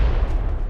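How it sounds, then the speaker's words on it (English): A single grenade blast in the mobile battle-royale game PUBG Mobile, thrown into the top floor of a building: a short, loud, low rumbling boom heard alone. "Nice nade into the top floor"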